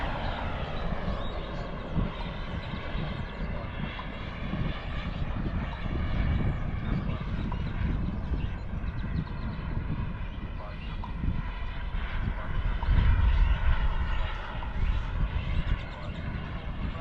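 A remote control airplane makes a pass before landing, its engine droning steadily at middle distance and swelling slightly near the end, while a person talks over it.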